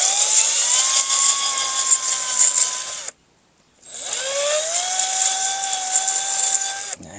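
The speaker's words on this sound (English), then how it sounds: "And be careful when you sand it that you don't get too close to the inside of the tire." A power sander with a P80 pad whines steadily while smoothing curb rash on a Tesla wheel, a loud high-pitched motor drone that cuts off briefly, then spins back up and runs on.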